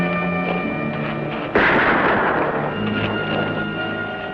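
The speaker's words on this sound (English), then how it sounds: "You can cut that rope out with a bullet?" A gunshot fired at a rope in an old Western scene rings out as a single loud crack at the midpoint, its echo trailing off over a steady background of music.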